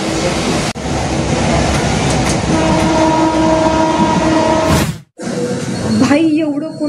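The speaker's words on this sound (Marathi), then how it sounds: "आत्ताची खोपोलीची ट्रेन लागली." A Khopoli local train pulls into a station, with a loud, close rumble of rail cars and a sustained horn blast. The noise briefly drops out near the end, then the clattering resumes.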